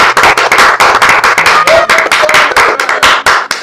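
A church congregation claps to acclaim the Lord, producing a dense, fast, loud run of overlapping hand claps that continues without a pause and has no voices over it.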